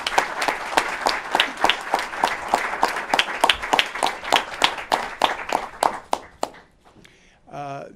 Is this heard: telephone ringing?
no